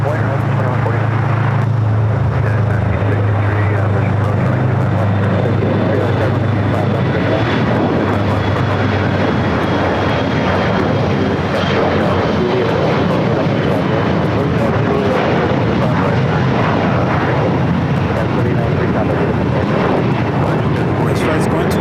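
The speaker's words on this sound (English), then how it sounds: "Another E-Jet, American Eagle, Sky West, taking off here on the south side." An American Eagle SkyWest Embraer E-Jet taking off from the south side of LAX, its loud, continuous engine roar building and sustained throughout, with voices talking over it.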